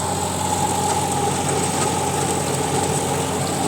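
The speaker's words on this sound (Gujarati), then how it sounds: "ખૂબ સારું એવું પરફોર્મન્સ ટ્રેક્ટરનું છે રોટાવેટરની અંદર તમે જોઈ શકો છો" A tractor engine runs steadily at a constant throttle while driving a rotavator through a fennel field, a continuous droning rumble with a mechanical whine, close by and without pauses.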